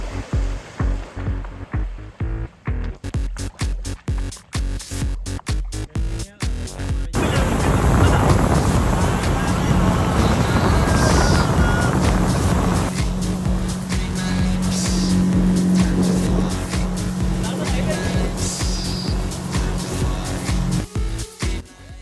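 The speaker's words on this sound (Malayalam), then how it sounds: "കവായിലേക്ക് പോകുന്ന ഈ സ്പീഡ് ബോട്ട് യാത്രയും ഒരു വ്യത്യസ്ത അനുഭവം തന്നെയാണ്." A speed boat runs across the water toward Kavvayi Island, Kannur, with a loud, steady engine roar and hiss that stutters with buffeting at first, then settles into a continuous drone. A rising whine cuts in near the end.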